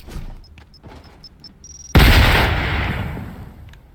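A sudden loud explosion in a video game, a heavy boom that bursts in after a series of faint beeps and then rumbles and slowly decays over a couple of seconds.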